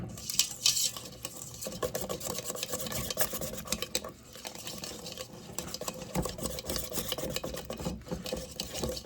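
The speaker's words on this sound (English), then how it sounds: "I can only find my little baby whisk right now. Get that stuff all mixed up." A small whisk beats cornbread batter in a bowl with a steady, rapid scraping and clicking that runs continuously, fairly close and with no talk.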